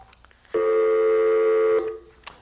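A steady electronic telephone tone sounds for over a second during a radio show call, clean and continuous, with faint background noise before and after.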